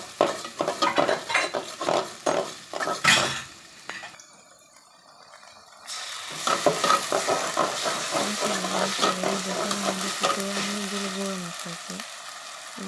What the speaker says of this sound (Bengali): সরষের তেল দিয়ে দিলাম পেঁয়াজ কুচি দিয়ে দিলাম